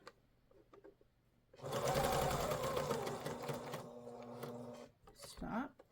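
A sewing machine stitches binding onto light-colored fabric at a 3/8-inch seam: a close, steady mechanical whirr runs for about three seconds after a quiet start, then stops, followed by brief handling noises.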